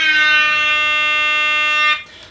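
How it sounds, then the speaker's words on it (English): Alert alarm sound effect, a loud sustained buzzing electronic tone holding steady for about two seconds before cutting off abruptly. "I would at this point also sound the exception alert alarm."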